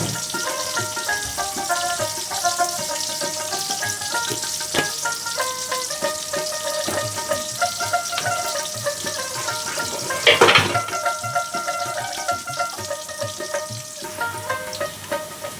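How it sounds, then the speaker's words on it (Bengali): Onions frying in oil in a pan for a prawn malai curry, a soft continuous sizzle with occasional stirring clinks and a short louder burst midway, faint music running underneath throughout. "আমি পেঁয়াজটাকে কিছুক্ষণ একটু লাল লাল করে ভেজে নেব"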